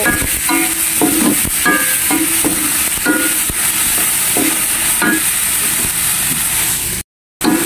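French beans stir-frying in a hot pan at home: a loud, dense sizzle with quick clattering stirs in the first half, then steady frying noise before a brief dropout near the end.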